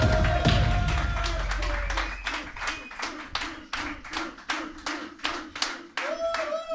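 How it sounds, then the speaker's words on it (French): Audience applause for a player at an esports tournament opening ceremony, a burst of clapping that thins into distinct individual claps over several seconds, with a voice speaking over it. "Un tonnerre d'applaudissements pour Yuge"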